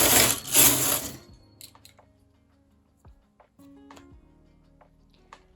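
A domestic knitting machine carriage swept across the needle bed for two rows when knitting cables, a loud whirring rush lasting about a second, followed by quieter clicks and small mechanical knocks as the needles are handled.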